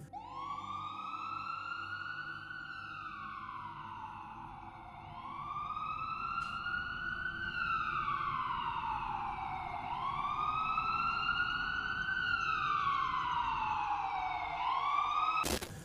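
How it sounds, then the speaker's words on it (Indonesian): An ambulance siren wails loudly and close by in repeated rising-and-falling sweeps, sounding without anyone switching it on, over a steady engine rumble. "terus sirine tiba-tiba nyala sampai hampir mau masuk ke dekat rumah saya"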